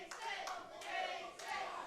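Wrestling crowd at an SICW All-Star Wrestling event clapping and cheering, a broad sustained roar with scattered claps and shouts throughout, fairly distant.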